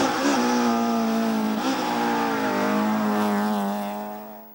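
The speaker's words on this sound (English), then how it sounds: "Next along is a Toyota Corolla, nicely prepared in a sort of mafia black, and driven right on the ragged edge." A black Toyota Corolla rally car driven hard at speed passes close by with a loud, steady engine roar whose pitch shifts slightly as it goes, then fades away at the end.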